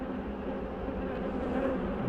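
Honey bees buzz steadily at an aggressive, flighty split hive, a dense continuous hum close by with no talking.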